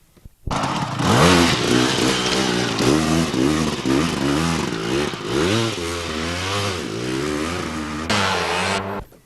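Enduro motorcycle roaring up close on a mountain-top race course, engine revving hard and rising and falling through gear changes for several seconds, loud and dominant, then cutting away briefly before returning.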